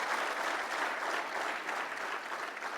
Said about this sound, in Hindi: दर्शकों से अनुरोध, एक बार पुनः जोरदार तालियों की गड़गड़ाहट से इस शानदार प्रस्तुति का अभिवादन करें।